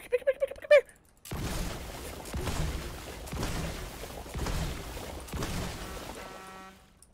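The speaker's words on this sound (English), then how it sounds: "I hear gunfire." Gunfire in an online shooter game, a few heavy bursts of shots that come and go in rough waves over a loud, dense background, with a short musical chime before and after.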